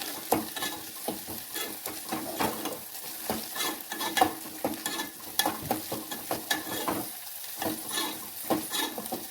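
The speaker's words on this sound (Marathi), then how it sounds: "कांदा चांगला परतून घ्यायचा आहे लाल" Onions sautéed and stirred in a pan, browning until reddish: a steady sizzle with frequent scraping and stirring strokes throughout, fairly close and with no talking.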